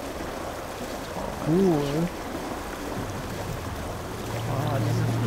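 Water babbles steadily along the shore in Sniper Elite 5, a constant soft rushing wash that runs through the whole stretch, with a brief spoken word over it.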